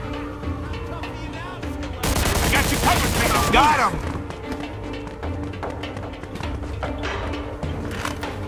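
A loud, dense burst of gunfire lasting about a second and a half in Mafia II: Definitive Edition, set between quieter ambient game sound and brief voices.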